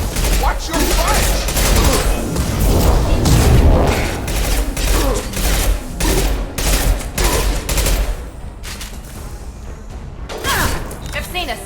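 Dense, loud bursts of rapid gunfire and combat impacts in the video game Mass Effect 2, rattling almost without pause over heavy mechanical thumps, with shouted voices mixed into the fighting.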